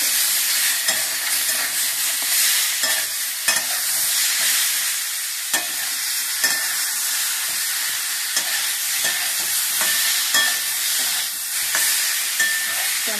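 Tomato paste sizzles steadily in a hot pan while a spoon scrapes and stirs through it, with repeated sharp clicks of utensil on metal over a constant bright frying hiss.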